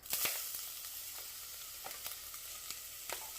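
Chopped onions with green and red peppers drop into hot oil and water for a chili base, bursting into a loud sizzle that settles into a steady fry with scattered crackles and pops.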